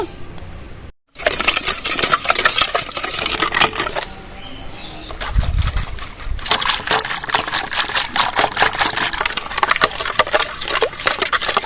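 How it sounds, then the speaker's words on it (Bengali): Yogurt poured into a bowl with sugar and black salt added for a mango lassi, giving close, busy wet pattering and granular clinks throughout, with one brief silent gap near the start. "এবার দইটা ঢেলে নেব চিনিটা দিয়ে দিচ্ছি বিট নুন দিয়ে দেবো"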